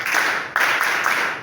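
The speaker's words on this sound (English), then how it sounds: "Please clap better for him." Audience clapping for a guest at a formal gathering with a high table, a steady broad patter of many hands that keeps going with small surges throughout.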